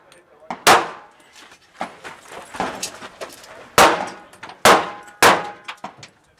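Pistol shots ring out against a steel popper target at a USPSA Area 2 practical shooting championship, with several sharp, loud reports and metallic clangs spaced irregularly across the stretch.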